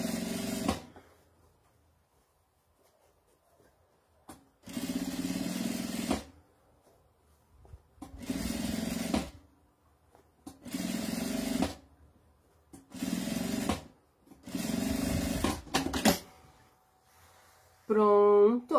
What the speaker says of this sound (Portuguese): a gente vai rebater a beiradinha do zíper aqui em toda a extensão